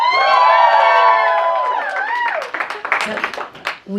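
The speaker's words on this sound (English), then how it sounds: "You can applaud for Wicked." A studio audience at an interview about Wicked breaks into applause and cheering, mixed with whoops, after a sustained sung or voiced tone fades. The crowd noise is loud and close.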